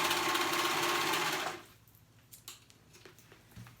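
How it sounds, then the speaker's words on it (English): A sewing machine runs a fast, steady whir as it sews a seam closed on a small child's dress, then stops about halfway through, leaving faint handling noises. "I'm going to sew that area right there closed"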